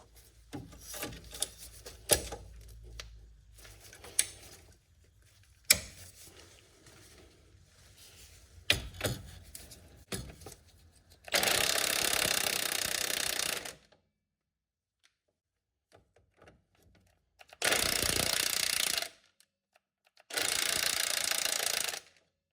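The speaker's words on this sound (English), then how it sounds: "So the impact didn't get it, even with the vice grips on the backside." An impact wrench hammers on a control arm ball joint nut of a Saturn Vue in three loud bursts of a few seconds each, following quieter clicks and knocks of tools being handled.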